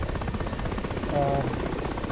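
A helicopter flies in the DCS flight simulator game, giving a steady rhythmic rotor chop at moderate level that runs under a talking voice throughout.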